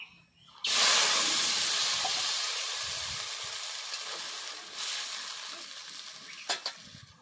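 Soaked jujube plums poured with their water into hot oil tempered with dried chilli and five-spice seeds, bursting into a loud steady sizzle and hiss that slowly settles, with a few stirring clinks near the end.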